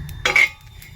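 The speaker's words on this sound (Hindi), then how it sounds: "ये देखिए तवे पे ये भून रहे हैं।" A short metallic clatter and scrape of a utensil on a tawa griddle while cumin and ajwain dry-roast, one quick burst that trails off into quiet.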